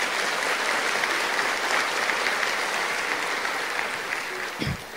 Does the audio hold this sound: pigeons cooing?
no